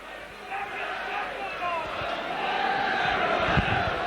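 Rugby league supporters at a Rovers versus Castleford match roar steadily from the terraces, a dense, continuous crowd swell that builds slightly toward the end, with no distinct voice standing out.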